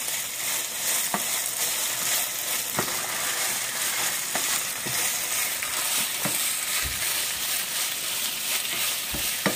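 Garlic being stirred in a frying pan while cooking Italian stuffed shells, with a steady close sizzle and a few scraping stir strokes of the utensil at irregular intervals.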